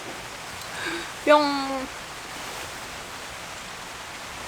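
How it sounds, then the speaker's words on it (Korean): A steady broadband hiss of light rain at a riverside campsite mixed with the flowing Pyeongchang River, with a brief voiced syllable standing out midway. "여기 빗소리뿐만 아니라 앞쪽에 평창강이 흐르잖아요"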